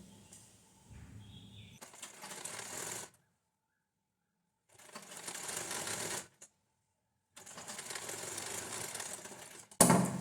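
A sewing machine stitches along blouse lining fabric in three bursts of rapid mechanical whirring and clatter, with silent pauses between them, heard at close range.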